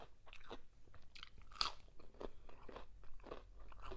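Crisp crunching and chewing of cucumber eaten with mayonnaise, heard close up and faint, with repeated bites and moist mastication sounds, one sharper crunch standing out.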